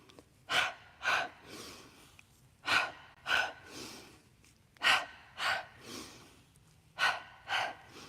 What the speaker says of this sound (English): When you exhale in Pilates, think that H sound.